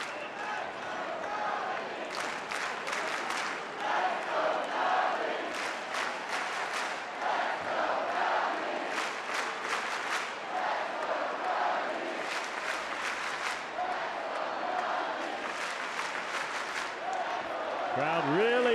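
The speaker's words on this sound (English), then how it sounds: "Crowd really into it." Crowd noise fills a baseball stadium during a Tampa Bay Rays versus Chicago Cubs game, a steady roar with swelling cheers and bursts of clapping throughout, loud and continuous, with some indistinct voices mixed in.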